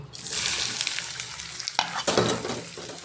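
Onion, green chili and dried fish frying in oil in a pan, a bright continuous close sizzle with scraping stirs and a couple of sharper bursts as the mixture is moved.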